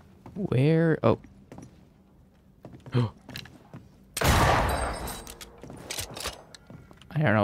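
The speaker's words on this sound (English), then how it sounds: "I hope she doesn't come running at the sound of gunshots" A burst of gunfire rings out in the video game Banishers, a loud, dense volley lasting about a second, set between stretches of speech and short mechanical clicks.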